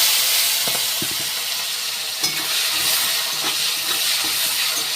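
Onion and tomato sizzle loudly in hot oil in a pan, the pan already spiced with whole garam masala, cardamom, cinnamon and cloves for a rohu fish curry, with a steady frying hiss and a few scraping stirs.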